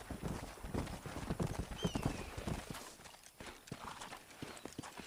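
Hooves clip-clop at a steady walking pace in the video game Red Dead Redemption, several horses moving together, with faint background ambience and a brief distant whistle-like tone.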